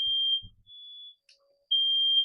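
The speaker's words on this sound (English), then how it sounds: "Smoke alarm." A smoke alarm sounds a loud, steady high-pitched tone that cuts off briefly and then resumes, with a few low knocks or movements heard during the pause.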